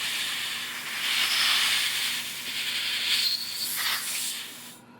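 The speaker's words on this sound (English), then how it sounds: "you blow with air all the passage" Compressed air hisses through the passages of a Homelite EZ Automatic chainsaw carburetor, a close, steady blowing rush lasting several seconds that swells and dips in short bursts before cutting off.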